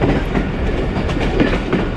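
Thal Express passenger train from Rawalpindi to Multan runs along the track on Main Line 1 near Golra Sharif, a loud steady rumble with rhythmic wheel clatter.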